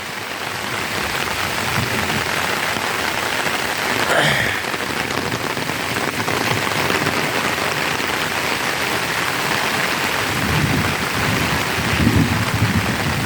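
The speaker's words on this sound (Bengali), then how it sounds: "বৃষ্টি হচ্ছে আল্লাহর রহমত" Steady, dense rain falls and patters on surfaces under dark afternoon storm clouds beside a village road, loud and continuous throughout, with a faint distant rumble partway through and no voices.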